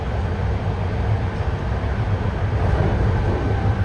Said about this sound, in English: See, we're braking for that curve and crossover and maybe even coming to a station.